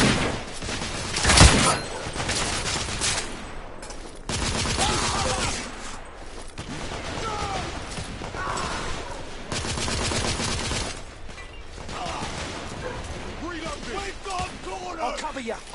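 Gunfire in The Order 1886 game, with a loud shot early on followed by bursts of rapid fire, mechanical clatter and shouted voices over the action.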